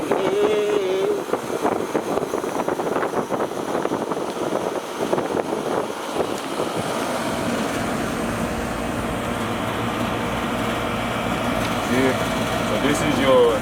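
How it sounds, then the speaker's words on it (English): A residential air conditioning unit with a newly replaced compressor runs with a loud, steady whooshing hum. At the start a voice talks over it, and the noise continues alone afterward. "AC blowing cold"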